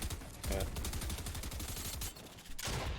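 Rapid gunfire in a competitive tournament video game, heard as dense bursts of shots with a brief lull, close and fairly loud.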